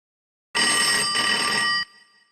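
A telephone bell rings in one loud, continuous burst of about a second and a half, then cuts off, leaving a faint fading tone.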